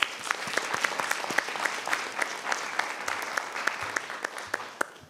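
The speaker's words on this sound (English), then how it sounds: "Let's give them a round of applause" At a school board meeting, attendees clap for students' artwork, a steady round of many hands with sharp individual claps popping out, moderately distant and continuing evenly without speech.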